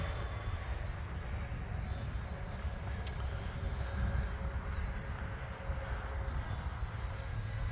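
Electric RC P-51 Mustang model plane by Arrows, running on a 3S 2200 battery, flying with a steady buzzing motor and propeller drone that holds fairly even and moderately loud throughout, with wind rumble and no talk.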